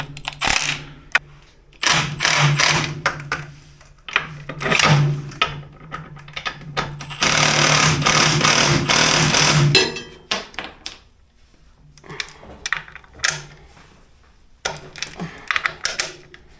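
Clutch bolts on a Ford 2110 tractor being cranked in a little at a time in a star pattern, with bursts of ratcheting and mechanical clatter separated by short pauses, close up.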